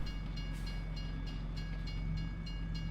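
A train in Farming Simulator 22 rolls past close by in a steady, loud rumble, with rhythmic wheel clatter on the rails and a sustained tonal hum, and no voices.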